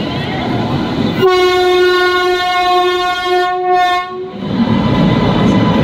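A train sounds its long horn as it pulls into a crowded railway station near Prayagraj during the Kumbh Mela, a loud sustained harmonic blast of about three seconds rising over station chatter that returns once the horn stops.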